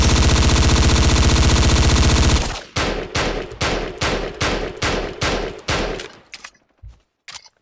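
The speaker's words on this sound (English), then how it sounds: "Let us fire some celebratory rounds!" Celebratory rounds fired in Battlefield: a solid, loud burst of rapid automatic gunfire, then about ten heavy, evenly spaced shots, trailing off into a few scattered final reports.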